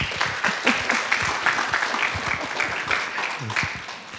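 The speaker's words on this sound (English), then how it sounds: "Can we give her another round of applause?" Steady applause from a crowd, dense clapping sustained throughout at moderate loudness.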